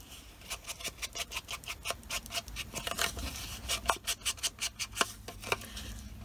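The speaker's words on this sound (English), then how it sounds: "I'm going to cut just corners out." Scissors snipping corners off paper for a scrapbook journal project: a steady series of crisp, close cuts, about a dozen evenly spaced snips, quiet and alone without talk.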